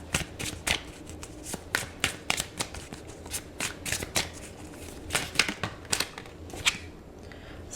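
A deck of tarot cards is riffled and shuffled by hand close up. The crisp flutters and snaps repeat in quick bursts with a steady rhythm, with no voices.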